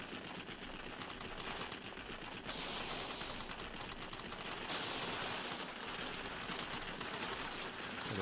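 Enemy gunfire in a Wargaming naval game, a dense rapid rattle of shots and bursts continuing throughout at low level, steady and distant-sounding.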